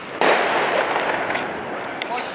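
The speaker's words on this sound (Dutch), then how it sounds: "dat gaat hier aardig te keer met vuurwerk" Dense, continuous crackling of New Year's Eve fireworks going off all around outdoors, a steady busy wash of pops and bursts with a few sharper cracks near the end.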